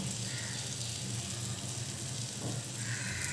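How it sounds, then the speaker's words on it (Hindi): Butter sizzling in a heated pan, a steady hissing crackle held evenly throughout at close range, with no talk over it. "तो हमने बटर को ऐड कर लिया है।"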